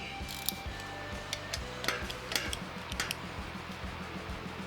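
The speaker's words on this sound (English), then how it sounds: "first thing, we got to take all these 5 bolts out. So we're going to start with the 2 big ones" A wrench works loose the bolts of a Per4mance Development DIRS differential brace on a Dodge Challenger, giving steady runs of close ratcheting clicks with a few sharper metallic knocks and no talking.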